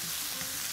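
Chicken pieces frying in a pan with colored bell peppers, a soft continuous sizzle with crackle, fairly quiet and close, no talking.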